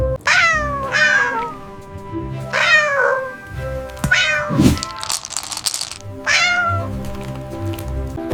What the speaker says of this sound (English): when your cat looks dead at you and meows